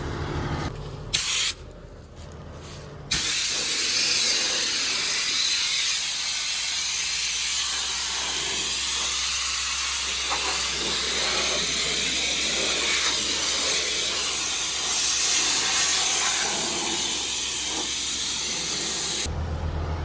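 Compressed air from a compressor, jumped with a Milwaukee battery, blasts dust off a harvester part in a loud, steady hiss lasting most of the time, after a couple of short opening bursts.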